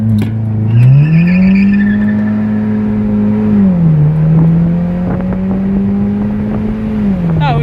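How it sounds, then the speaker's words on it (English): A car engine drones steadily nearby, rising in pitch as it revs and shifts, loud and continuous throughout, with faint voices now and then. "This car's coming."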